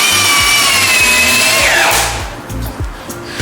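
A power drill drives screws into wooden raised garden bed boards fastened to a 4x4 corner post, whining steadily and up close before winding down partway through.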